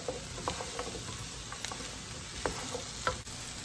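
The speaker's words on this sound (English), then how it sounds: "and gonna give it a little stir." Stew meat and potatoes with flour are stirred in a pot for carne guisada, with scraping spoon strokes over a soft, steady sizzle and a few sharper knocks against the pot, close by and with no talking.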